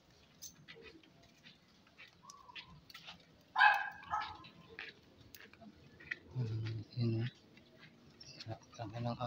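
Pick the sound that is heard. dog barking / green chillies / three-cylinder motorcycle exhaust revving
dog barking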